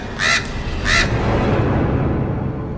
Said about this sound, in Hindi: और कुछ कौवे वहां छत पर बैठे आवाज कर रहे थे